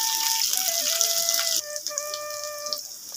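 Chopped onions and green chillies fry in a pan, a bright, steady sizzle that drops a little partway through, with a tonal melody playing over it.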